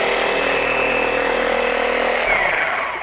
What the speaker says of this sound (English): Once I pick it up, lay the polisher flat.